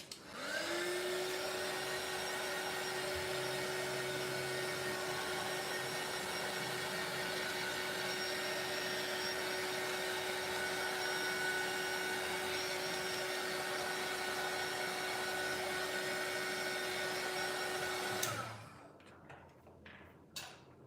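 A heat tool dries a mixed-media craft tag with a steady, loud whine and blowing rush close by for about eighteen seconds, then cuts off, leaving a few faint handling clicks.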